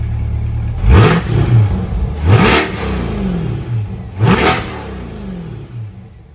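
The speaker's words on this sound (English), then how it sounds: "how much more aggressive it sounds with the exhaust tips" A Corvette C8 with sport exhaust revs three times with sharp, aggressive bursts from the exhaust, each blip rising then settling back to a rumbling idle, close by.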